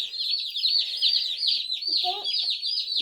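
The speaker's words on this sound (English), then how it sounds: "That's the baby chicken." Baby chicks peep in rapid, high-pitched repeated calls, close and continuous, with a brief lower cluck-like sound partway through.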